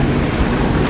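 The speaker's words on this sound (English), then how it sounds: "just out here enjoying a little bit of rain" Steady rain falls outside a veranda on a wet, stormy day in Brisbane, a loud continuous hiss and patter of drops with a low rumble beneath.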